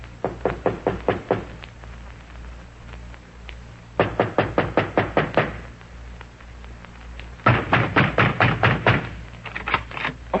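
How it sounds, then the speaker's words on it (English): Knocking on a door as a radio drama sound effect comes in three loud, close bursts of rapid knuckle raps, each run of about eight to ten knocks separated by short pauses. "You're puttering around the house, and I knock at the door."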